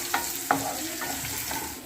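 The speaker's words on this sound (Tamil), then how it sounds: "ஒரு 1/2 கை வெங்காயம் போட்டுக்கிறேன். 4 காஞ்ச மிளகாயை பிச்சு விட்டுக்கிறேன்." Onions and dried red chillies sautéing in a pan, a soft steady sizzle with a few sharp scrapes and clinks of a stirring spoon, quiet and close, no voices.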